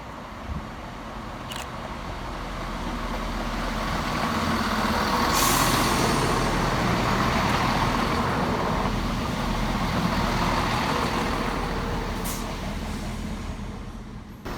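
A Scotrail Class 170 diesel unit, 170470, rolls into Edinburgh Haymarket station with a swelling, steady rumble and engine drone that peaks midway and then eases, with faint squeals and clanks along the platform.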